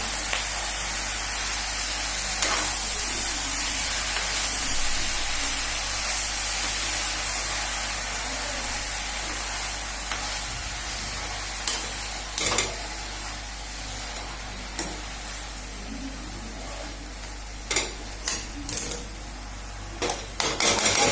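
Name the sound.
sautéing fenugreek leaves (methi bhaji) in a pan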